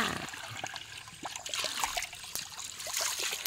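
Natural fresh water pours strongly at an outdoor bathing spot, a steady close rushing splash with some trickling and splatter throughout.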